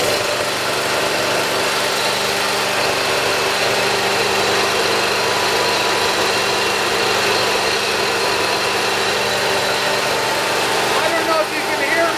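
A Dixon ZTR riding mower engine runs steadily nearby, a loud, even drone that holds without a break from start to finish.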